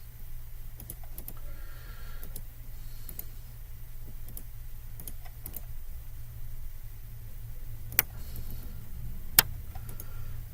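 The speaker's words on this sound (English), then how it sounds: "I'm just going to fly through here and do this through keyboard commands, which you can't see" Computer keyboard keys clicked in quick, irregular bursts of taps over a steady low hum, with a couple of sharper, louder clicks near the end, close-up and with no talking.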